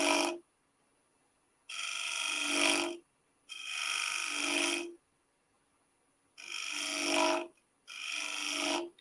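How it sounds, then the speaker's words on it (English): A small 1/2 inch round nose scraper shear-scrapes wood on a lathe in five separate passes, each a raspy, filing-like scrape of a second or so with quiet pauses in between, heard close and alone. "And a small 1/2 inch round nose scraper is perfect for this kind of technique"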